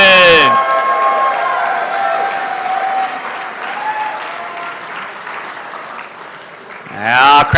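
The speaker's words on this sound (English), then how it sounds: "Keep that applause loud and proud." A crowd applauds loudly at an RC racing awards banquet for the 1/10 IFMAR Worlds 2023 at Hobby Action RC Raceway; the sustained clapping runs under an announcer's voice heard at the start and end.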